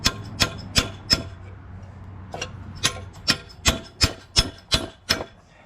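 Sharp metallic hammer blows strike a chisel against a corroded CV axle on a 2014 RAM 1500 truck, about a dozen hits, spaced at first and then quickening into a steady rhythm, close and distinct.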